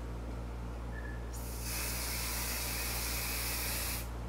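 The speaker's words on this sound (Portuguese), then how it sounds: "Passo o spray, mas não passo muito pra chegar molhado, não." Hair spray misted onto hair before curling with a flat iron, one close, steady hiss lasting a few seconds over low background hum, no talking.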